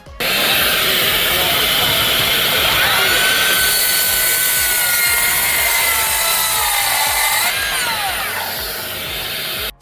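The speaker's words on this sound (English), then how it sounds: "we have a new M18 Fuel 10 1/4 rear handle circular saw" A Milwaukee M18 Fuel 10 1/4-inch rear handle circular saw cuts through wood. The cordless saw whines loud and steady for nearly ten seconds, its pitch bending and dipping as the blade loads in the cut, and no one talks over it.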